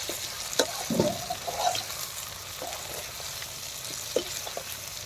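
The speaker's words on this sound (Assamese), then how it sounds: "ভাজা হৈ গৈছে কোমোৰা আৰু মাংস আলু দিছোঁ" Low sizzling of pumpkin, meat and potatoes frying in a pan, with occasional scrapes and clinks of stirring, quiet and close with no voices.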